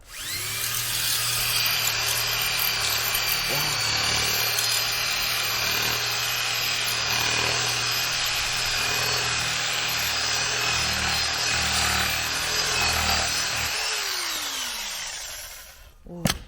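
Large shears cut through fallen tree branches with a steady, continuous cutting and rubbing noise, close and loud, with no pauses until it stops abruptly at the end.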